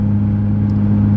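A modified Fiat 147 with custom wheels and suspension drones loudly as it drives, its engine giving a steady low hum from inside the cabin with a couple of faint clicks, heard alone.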